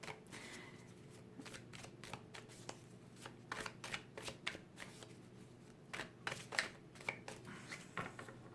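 Tarot cards being shuffled, a fast papery riffling and slapping in irregular bursts, close and moderately loud over a low steady room hum, with no one talking.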